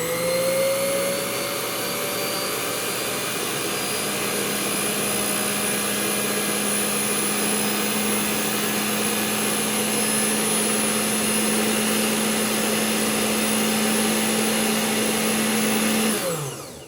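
Electric mixer running at medium speed, whipping meringue: a continuous, close motor whine with steady pitch, unbroken for about sixteen seconds before cutting off.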